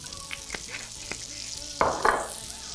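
Butter and olive oil sizzle in a frying pan while being swirled around to coat it, a soft steady crackle with a few sharp clicks and two louder hissing bursts near the end.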